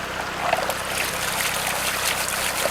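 A gold pan is swirled and worked under water, giving a continuous close wash of trickling, sloshing water with bright little splashes and no pauses.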